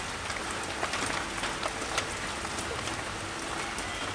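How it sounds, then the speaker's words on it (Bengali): Steady rain patters on a surface outdoors on a soft, cool day, a dense even hiss with scattered drop ticks throughout, no voices. "বৃষ্টি পড়ছে, আজকের ওয়েদার পুরো নরম নরম"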